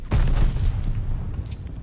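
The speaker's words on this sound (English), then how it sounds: "Tossing a sticky bomb" Sticky bomb detonating in Call of Duty Vanguard: a booming blast with a deep thump, then a crackling, decaying rumble and a small sharp pop near the end.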